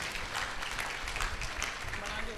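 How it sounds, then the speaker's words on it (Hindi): Audience clapping in a Hindi spiritual discourse gathering, a dense steady patter of many hands lasting a couple of seconds at moderate level. "सुंदर तालियां बजाइए"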